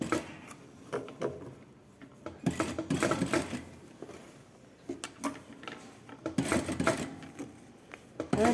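A sewing machine stitching a blouse seam in short bursts of rapid mechanical rattling, separated by quieter pauses with handling clicks and knocks, close by.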